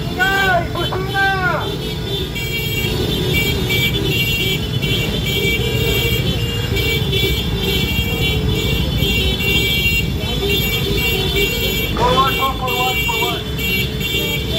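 Loud, continuous car horns blare over a noisy street protest crowd in the Philippines, with dense honking throughout and shouting voices mixed in.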